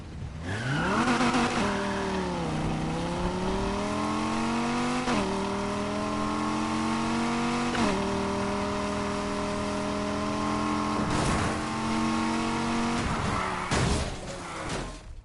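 Need for Speed Heat video game car engine revving hard and shifting gears, with a loud, rising engine whine. Each climb breaks off at a gear change, repeating several times over a steady roar.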